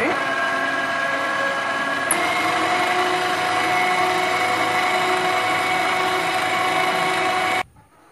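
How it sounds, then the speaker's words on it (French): An electric mixer beating cookie dough with flour being added gradually, a steady whirring motor hum running continuously before cutting off abruptly near the end. "Donc là, je vais mélanger."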